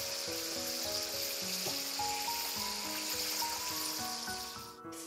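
Golden fried bananas are lifted from hot cooking oil to drain, a soft continuous sizzle and crackle running under steady background music.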